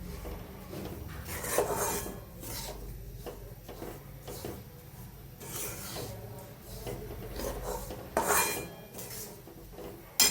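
Ground flour slowly roasting in a pan for magni dal shiro, heard as soft scraping and rubbing of a spatula against the pan with occasional clinks, fairly close, without talk.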